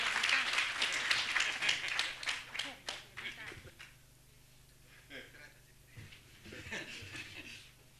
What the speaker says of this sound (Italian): l'applauso l'abbiamo ricevuto per quanto è più che meritato